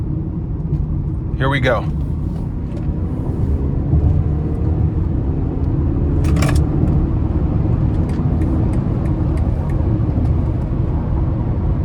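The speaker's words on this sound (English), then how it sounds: "So we're gonna give it a pull here coming out of this corner." A 2020 BMW X3 xDrive30i accelerates hard out of a corner, its engine pulling as a steady low rumble of road and cabin noise that rises slightly, with someone speaking briefly near the start.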